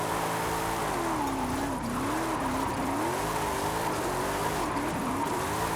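A car drifting in the Forza Horizon 5 racing game, with the engine held high in fifth and sixth gear, a sustained loud drone whose pitch wavers up and down continuously under steady tire noise.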